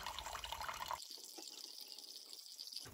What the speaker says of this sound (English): Drain the tank out.